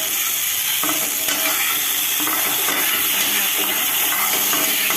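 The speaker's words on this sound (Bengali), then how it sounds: "ভালো মতো ভেজে নিতে হবে, নরম করে ভাজে নিতে হবে।" Steady loud sizzle of vegetables frying in a pan, with repeated scraping and stirring strokes running throughout, no voices.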